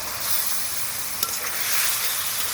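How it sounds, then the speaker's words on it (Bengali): Fried potol and drumstick dropped into sizzling spice paste, a loud broad hiss of frying with a small clatter partway through. "এখন আমি ভেজে রাখা পটল ডাঁটা দিয়ে দিচ্ছি।"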